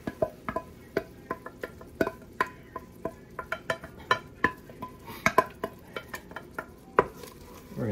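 Spoon scraping and clinking against a pot while pureed tomatoes are stirred into tortilla soup, a string of sharp, irregular knocks and scrapes, close and clear with no talking.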